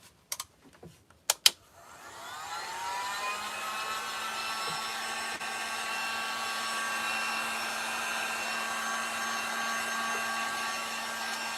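A hair dryer dries paint on patriotic craft items. A few close clicks come first, then the dryer starts up into a steady, loud whooshing whine that holds to the end, with no talking.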